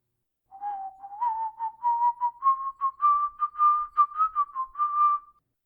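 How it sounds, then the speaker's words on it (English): A single person whistles the tune Back to Back Against the Mainmast, a clear melody of short, evenly spaced notes that slowly rises in pitch, close and alone in quiet surroundings. "The unmistakable air of back to back against the mainmast being whistled openly in the street caught Henry's attention"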